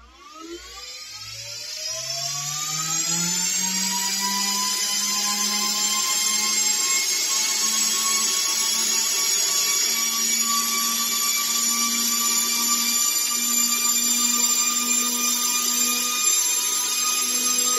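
AsRock Rack 4U12G BC-250 twelve-node server chassis spinning up: a whine that rises over the first few seconds, then a loud, steady high-pitched fan roar that holds throughout.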